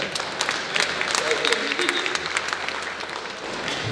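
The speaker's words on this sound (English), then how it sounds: "You can clap for that." A comedy club audience claps briefly at a stand-up show, a dense scattered patter of hands that holds steady for a few seconds with faint voices mixed in.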